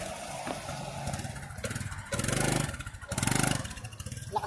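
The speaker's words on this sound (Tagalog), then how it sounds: "Lakas din ng makina nito" A Kawasaki Fury motorcycle engine running near and loud, idling with a rough clatter and then revving hard twice in strong surges before settling back.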